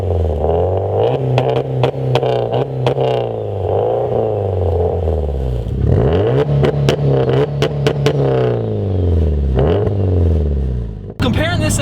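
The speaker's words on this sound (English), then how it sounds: "He has full race equal length headers with a Perrin exhaust," A 2008 Subaru WRX STI with full race equal length headers and a Perrin exhaust revs hard in loud, rising and falling bursts, close by and steady, with a voice talking over much of it.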